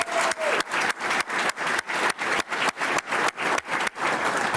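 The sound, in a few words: applause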